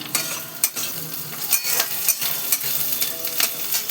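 Chopped onion and minced garlic fry in a pan, a steady close sizzle broken by repeated scraping stirs of a utensil against the pan, with no talk.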